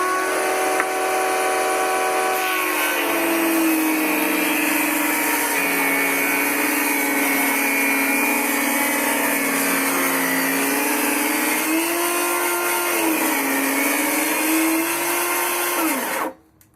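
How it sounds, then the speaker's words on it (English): Table saw ripping a tapered cut along a wooden cabinet filler strip, a loud steady whine with a shifting pitch that holds for about sixteen seconds, then stops abruptly as the blade cuts off, with no talking. "So what I want to do is rip the taper first and then set the fence to that consistent measurement."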